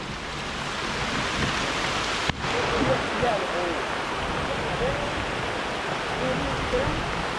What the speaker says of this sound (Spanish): Esto sí es aguacero